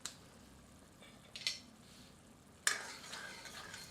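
Kasuri methi is stirred into egg masala in a pan, a soft, quiet sizzle broken by a few brief spoon scrapes against the pan.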